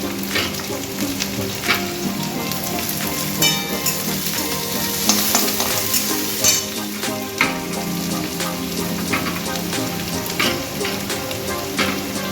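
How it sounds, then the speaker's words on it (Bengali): Frying and stirring in an oiled pan for Bengali aloo chokha, a loud close sizzle with frequent scraping and tapping strokes running continuously without talk. "এটা লাল লাল ভাজা হবে।"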